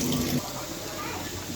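Water runs briefly into ground coriander, turmeric and chili powders for mixing, a soft close splash that fades into quiet kitchen rustle.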